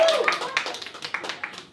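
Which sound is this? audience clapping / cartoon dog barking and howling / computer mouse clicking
audience clapping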